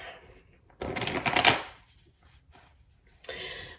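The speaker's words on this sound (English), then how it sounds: "as I was shuffling" Tarot cards being shuffled by hand, two short bursts of riffling and sliding cards close to the microphone, separated by quieter pauses.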